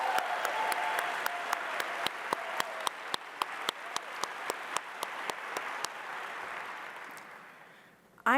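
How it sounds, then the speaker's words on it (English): Conference plenary audience at NAFSA 2023 applauding a Center Stage Academy performance: a broad wash of clapping punctuated by regular, evenly spaced sharp beats, gradually thinning and fading toward the end. "Let's give Center Stage Academy a round of applause."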